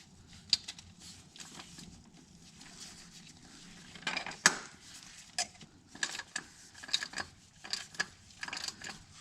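A ratchet wrench tightens a bolt on a Ford Fiesta oil cooler in a series of quiet, close clicking bursts and metallic taps, irregular and growing busier toward the end.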